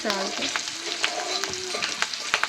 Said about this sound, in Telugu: ఇందులోనే కొంచెం కరివేపాకు వేసుకోవాలి. కొంచెం ఫ్రై చేసుకోవాలి.